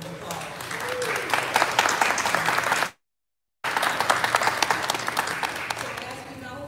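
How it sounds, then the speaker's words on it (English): An audience claps for public safety leadership at a Carnival 2021 welcome event, steady crowd applause briefly cut by a short gap of silence before resuming. "join me in giving them a round of applause"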